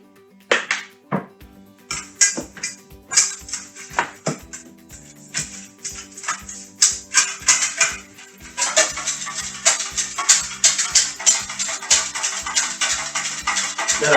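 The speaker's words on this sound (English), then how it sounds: "I'm whisking the oil." Metal whisk beating oil in a bowl, a rapid run of sharp clinking strokes against the side that starts sparse and builds into steady fast whisking, close and alone.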